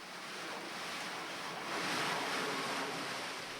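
Strong floodwater current rushing through Gondrong, Tangerang, a steady broadband roar of churning water and wind that swells slightly midway, with no voices.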